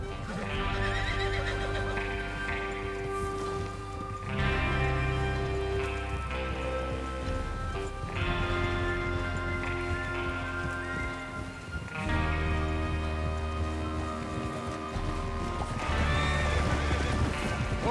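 Horses in the Western video game Red Dead Redemption 2 neigh and whinny over clip-clopping hooves, set against a steady, layered game soundscape with a patter like rain, running continuously at an even level.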